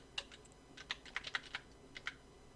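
Computer keyboard keys pressed for shortcut commands while working in Illustrator, a sparse string of crisp, quiet clicks at an irregular pace in an otherwise hushed room.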